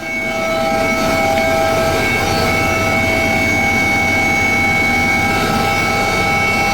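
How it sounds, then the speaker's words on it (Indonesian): A search and rescue helicopter flies overhead at an air search over the sea, its engine whine and rotor drone loud, steady and continuous, with no voices. "tim gabungan juga menerjunkan 1 unit helikopter untuk memaksimalkan pencarian dari udara"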